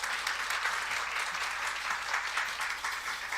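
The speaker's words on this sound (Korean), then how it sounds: "우리 목사님 박수로 환영하도록 하겠습니다" A church congregation gives a steady, sustained round of applause at a dawn revival service, dense clapping filling the room evenly throughout with no talking over it.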